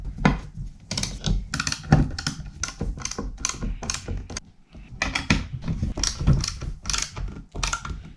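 A screwdriver drives screws into a Yak Attack kayak accessory mount, producing rapid, close clicking bursts that stop and start in short runs with brief pauses between them.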